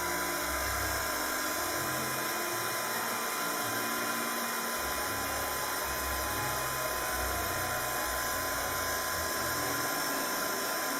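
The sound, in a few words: noisy scrapbooking heat tool drying embossing powder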